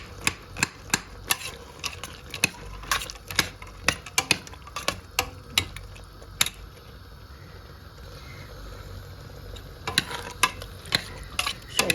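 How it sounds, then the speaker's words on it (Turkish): Home-grown borlotti beans are roasted in a pan, with a rhythmic series of sharp spoon clicks and scrapes over a faint sizzle, pausing briefly before the stirring resumes. "Şöyle güzelce bir kavrulsun. Fasulyem kavrulsun."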